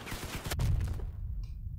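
Machine-gun fire from a combat vehicle in the Crossout vehicular battle game, loud dense rattling bursts through the first second, then a sharp cutoff into a quieter low rumble with a faint high blip near the end.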